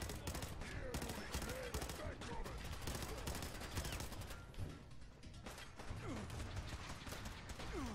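Rapid gunfire rattles through a firefight in the video game Fallout 4, with dense bursts of automatic shots and clattering mechanical sounds that continue almost without a break at moderate volume.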